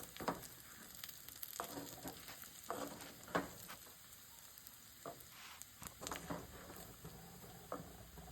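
Chicken fries in a pan at home with a constant crackling sizzle, broken by repeated scraping stirs of a spoon. Close and fairly quiet, with no talking.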